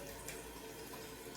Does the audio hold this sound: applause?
no